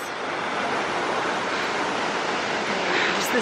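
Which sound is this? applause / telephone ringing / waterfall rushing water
waterfall rushing water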